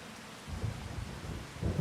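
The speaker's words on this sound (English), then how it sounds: "Frickin' rain." Rain and low thunder from the Farming Simulator 25 game, a soft steady patter with deep rumbles swelling twice, faint and distant, with no voices.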